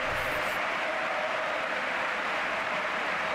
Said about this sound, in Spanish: Aplausos para Tiso.